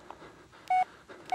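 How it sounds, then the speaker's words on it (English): A mobile phone in The Blair Witch gives two short, clean electronic beeps separated by a brief pause, set over a faint, quiet room background. "Oh, phone."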